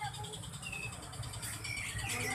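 Caged birds, including a green one, chirping and tweeting in short high calls over a continuous background murmur, fairly close.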